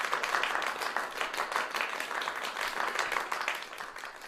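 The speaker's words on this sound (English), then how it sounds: "Let's get a big round of applause." An audience claps after a scene at an adult acting studio script showcase, a steady patter of applause heard at moderate distance, even in level from start to finish.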